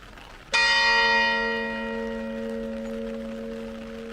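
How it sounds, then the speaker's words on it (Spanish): A single strike of the church bell of Église Saint-Germain de Beaumont in rural France, ringing out loud and close, then a long humming decay that lingers with no other sound. "El campanario de la Église Saint-Germain de Beaumont marca las 13 horas"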